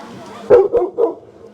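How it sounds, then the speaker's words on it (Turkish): A dog guarding a spot at a tiling job in Bulgaria gives three quick barks, close and fairly loud, over a faint background. "Evet burasını kolluyor köpek"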